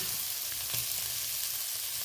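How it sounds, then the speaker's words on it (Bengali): Potato pieces fry in a pan with onion, green chili and tomato, giving off a soft, steady sizzle that stays even and fairly quiet for two seconds. "পেঁয়াজ কাঁচা লঙ্কা টমেটোর সাথে আলুটা দিয়ে ভালোভাবে ভাজা ভাজা করে নিয়েছি"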